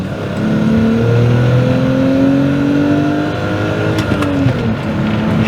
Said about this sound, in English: I'm just amazed how quickly the engine revs down